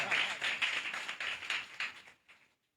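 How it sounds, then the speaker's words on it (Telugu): A church congregation claps together in a quick, even rhythm of close, bright claps for about two and a half seconds before stopping abruptly. "చప్పట్లు కొడదామా?"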